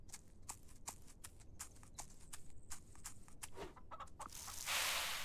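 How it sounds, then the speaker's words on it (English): Chickens cluck and peck in a video game farm, a steady stream of sharp, rhythmic clicks and clucks over a low background hum, ending in a burst of loud hiss. "I'll feed the chickens, and I'll show you the big farm"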